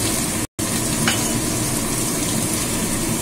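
Garlic and ginger paste frying in a pan for a pumpkin kofta curry, a loud dense continuous sizzle close up, cut by a brief silent gap near the start, no voices.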